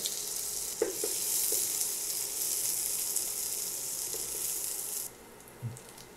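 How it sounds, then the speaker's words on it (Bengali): Chopped garlic sizzles in hot mustard oil in a pan, a bright continuous hiss with a few clinks of a utensil, the sizzle dropping off sharply near the end; no one speaks. "ওই প্যানে আমি একটু তেল দিয়ে দিলাম সরিষার তেল আর এখানে আমি এই যে রসুন কুচি দিয়ে দিচ্ছি"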